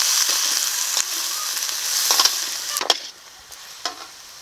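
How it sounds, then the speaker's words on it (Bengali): Loud sizzling of eggplant frying in oil with turmeric and salt, with sharp scraping and clinking of a utensil stirring the pan, easing off toward the end. "এখন ভালো করে ভেজে নেব"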